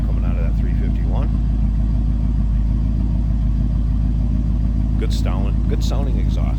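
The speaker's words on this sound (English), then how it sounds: "A little rumble coming out of that 351." Idling 1978 Mercury Cougar XR7 coupe with a 351 V8, a loud steady low exhaust rumble close by, with someone talking over it.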